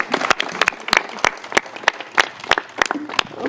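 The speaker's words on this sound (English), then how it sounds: "Let's give a round of applause to these hard-working folks." Crowd at a city Hurricane Sandy recovery event applauding Build It Back workers, a steady round of clapping with sharp individual claps standing out close by.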